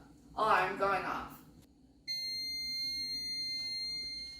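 A child car seat weight sensor alarm sounds after a short burst of talk, giving a steady, piercing electronic tone with bright harmonics that holds loud and unbroken for about two seconds.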